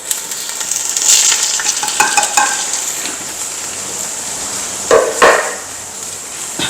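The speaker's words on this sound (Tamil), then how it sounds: "இப்போ போட்டு நம்ம கிண்ட போகிறோம்" Masala being stirred as it fries in a pan for goat head curry, giving a steady sizzle broken by scraping spatula strokes and a couple of sharper knocks against the pan.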